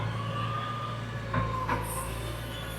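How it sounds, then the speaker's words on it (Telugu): A JCB pushing sand in a sandy farm field gives a steady, droning engine hum with a low tonal whine and a couple of brief clanks, with no talking. "ఇప్పుడు మనం ఇసుక నెడుతున్నాం చూడండి."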